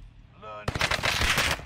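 Close, loud automatic gunfire from the video game Warzone bursts in as a rapid, continuous volley after a brief quiet moment.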